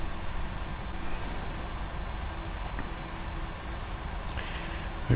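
Lufthansa heavy jet engines rumble steadily at takeoff power on the runway in the Prepar3D flight simulator, a broad, even roar that stays constant and fairly quiet throughout.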